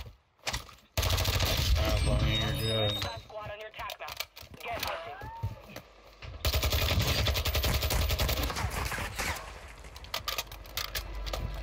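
SMG fire in Warzone 2 comes in rapid bursts at close range, mixed with other gunfire and the din of battle in a Fort Resurgence match.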